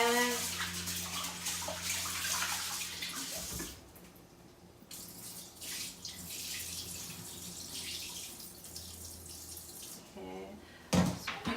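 Par-boiled rice for Persian rice is rinsed in a bowl, with water running and swishing close by. The water stops briefly, then splashes and pours again near the end, as the murky water is dumped.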